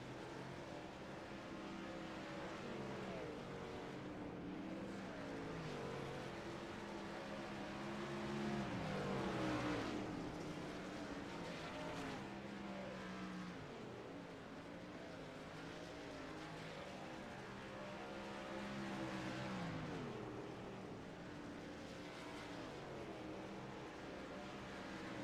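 Race trucks roar around a Knoxville dirt track, a continuous distant engine drone with swelling passes as the field circles, with faint commentary beneath.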